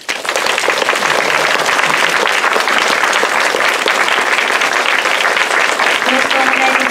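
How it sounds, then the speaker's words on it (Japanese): Steady, dense applause from a cinema audience welcoming film director Yu Irie onstage at a Nagoya stage greeting, filling the whole stretch at full loudness with faint voices mixed in. "拍手でお迎えください。"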